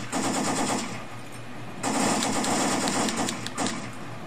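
Rapid automatic gunfire in the video game Syphon Filter 3, two sustained loud bursts of machine-gun fire with a brief lull between.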